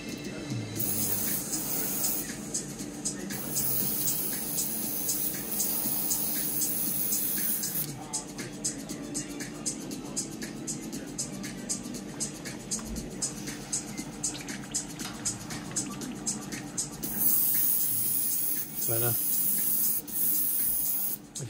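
An airbrush sprays paint onto a Revell 1/72 Type IX C U-boat model, a soft continuous hiss in bursts, near and fairly quiet, pausing briefly around the middle before resuming.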